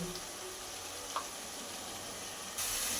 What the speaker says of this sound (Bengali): দিয়ে সমস্ত মশলা কিছুক্ষণ তেলের সঙ্গে কষিয়ে নেব